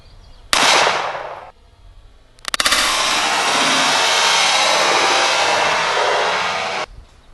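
A 10mm RIA 2011 pistol firing 200 grain V-Crown rounds: one sharp, loud shot that decays quickly, then after a short pause a second sharp crack followed by a long, sustained roar lasting several seconds before cutting off abruptly.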